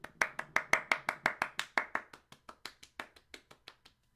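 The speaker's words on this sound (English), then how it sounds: "Give him a round of applause." Clapping in a steady, evenly spaced rhythm of about twenty distinct claps, loud at first and then gradually fading quieter, with no voices.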